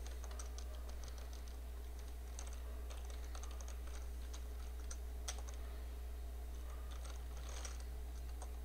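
Computer keyboard typing in bursts of quiet, close key clicks over a steady low electrical hum, with no voices.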